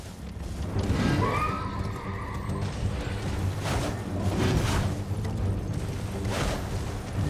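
A horse in the video game Elden Ring gives a loud, drawn-out neigh over a constant rumbling game soundscape, with faint hoof thuds in the background.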